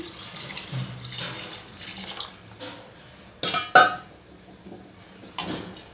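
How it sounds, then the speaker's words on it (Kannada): Water poured into a pot over rice that has been fried in oil for a soya and chickpea pulao, a steady splashing rush with a couple of sharper splashes and clinks near the end, close and with no talk. "ಈಗ ಮೆಜರ್ಮೆಂಟ್ಗೆ ತಕ್ಕಂತೆ ನೀರು ಹಾಕ್ತಾಯಿದ್ದೀನಿ"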